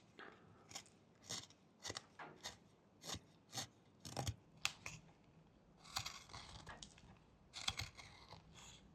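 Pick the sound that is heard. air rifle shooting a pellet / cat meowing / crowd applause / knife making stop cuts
knife making stop cuts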